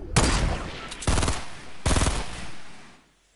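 Gunfire in the Fortnite video game comes in three rapid automatic bursts, sharp and fairly close, separated by brief pauses before fading out.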